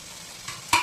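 Liver fry curry stirred in a pan, a low steady sizzle with two short scraping stir strokes near the end, close and fairly faint.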